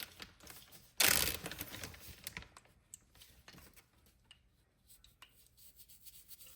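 Pork chops frying in hot grease give off a sudden loud hissing crackle that eases into a quieter, uneven sizzle with scattered pops, heard alone without talk.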